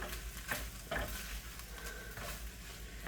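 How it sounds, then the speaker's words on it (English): Fried rice being stirred in a pan after soy sauce is added, with soft sizzling and a few scraping strokes over about three seconds, quiet and close. "Mix it up so everything has the soy sauce flavor"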